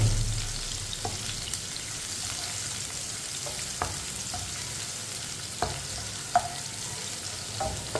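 Finely chopped onions brown in a pan for masoor dal under a steady, moderate sizzle, while a spoon stirs and taps against the pan at irregular intervals.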